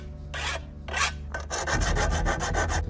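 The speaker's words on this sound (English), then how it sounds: "There are some sharp edges left over from using the angle grinder, so I'm going to file those down" Metal file rasping over sharp edges of a washing machine drum cut with an angle grinder, two short separate strokes followed by a quick run of rapid back-and-forth strokes, close and alone.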